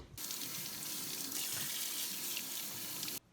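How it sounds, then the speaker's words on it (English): Cold tap water runs steadily into a sink as bleached tie-dye fabric is rinsed, a continuous close splashing rush that stops abruptly at the end. "rinse it out with cold water"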